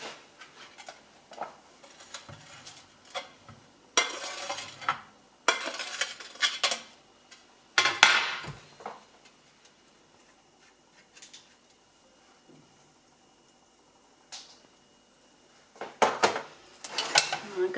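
Spoon scraping and clinking against a bowl as grated vegetables are stirred, with irregular bursts of mixing noise separated by quieter pauses, close and moderately loud.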